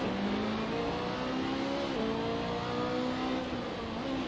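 Steady car engine drone from a VR racing simulator game, holding a sustained tone with slight pitch shifts as the revs change, continuous and fairly loud, with no talking.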